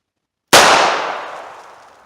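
A single sharp, loud revolver shot fired at a target from about four yards, bursting out of silence and ringing off in a long fading tail.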